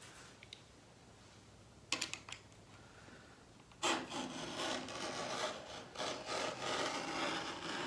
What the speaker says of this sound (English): Now I'm just going to use a utility knife here and score these lines so that we don't get any tear out from the router.